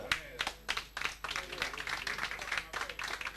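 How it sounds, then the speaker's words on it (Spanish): An audience claps at the close of a speech at a community gathering, with uneven bursts of applause rising and falling. The crowd is moderately distant and no voice stands out above it. "le agradecemos un último aplauso para Juan Carlos Servín"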